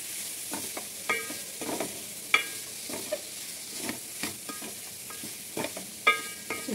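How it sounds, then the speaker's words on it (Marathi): Cowpea pods frying in oil with masala, a steady close sizzle broken by repeated scraping stirs and spatula clinks against the pan, with no talk. "चवळीची चांगल्या तेलामध्ये फ्राय होऊ द्यायचे।"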